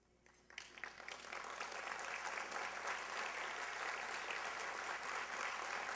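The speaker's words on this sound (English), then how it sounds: "So a nice round of applause for these folks" Audience applause at the 2011 Amherst Area Chamber of Commerce A+ awards dinner starts after a quiet moment, then swells into steady, dense clapping from a large room that carries on to the end.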